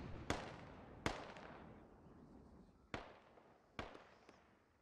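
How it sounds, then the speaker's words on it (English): Mortar shells landing in the Squad military game, four sharp, loud blasts spaced irregularly over a few seconds, each with a short rumbling decay, plus a fainter thud near the end. "he wants to get out of where the mortars are landing"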